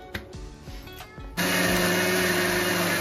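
A kitchen mixer grinder blends green chillies, coriander and mint into a paste, starting with a few short pulses and knocks, then switching into a loud, continuous high whine that runs to the end.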